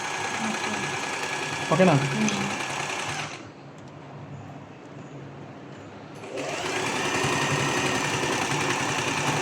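A sewing machine stitching cloth forward and in reverse to lock the seam, a loud steady whirring run that stops briefly, then resumes; a voice speaks briefly over it.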